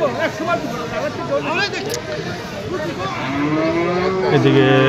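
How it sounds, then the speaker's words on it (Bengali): A dairy cow moos at a rural cattle market near Dhaka, one long low call building at the end over a busy babble of people talking nearby. "এখানেও একটা বাছুরের গাই আছে, এটাও আপনার দেশাল গাভী"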